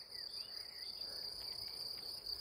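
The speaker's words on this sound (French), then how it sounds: "Ce sont les grillons." Crickets along a rural pilgrimage path on the Camino de Compostela in spring, a continuous high-pitched trill that is steady and fairly faint against soft outdoor ambience, with no voices.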